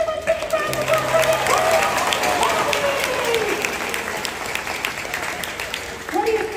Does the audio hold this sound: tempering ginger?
no